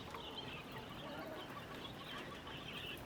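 Quails in a coop make soft, busy clucking and chirping calls that overlap continuously at close range over a constant background hiss.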